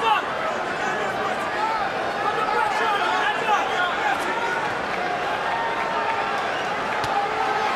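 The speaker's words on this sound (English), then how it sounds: "Boy, the crowd, you can hear the buzz." A crowd at a boxing fight keeps up a steady, dense murmur, a broad rumble of many voices filling the arena at a constant level with no distinct cheers.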